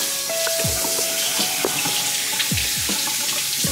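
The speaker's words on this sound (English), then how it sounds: "Wash my hands." Tap water runs steadily while hands are washed at a sink, with occasional splashes and short scraping knocks over a constant rush and a faint steady hum.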